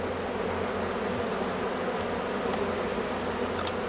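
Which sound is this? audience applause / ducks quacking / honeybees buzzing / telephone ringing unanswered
honeybees buzzing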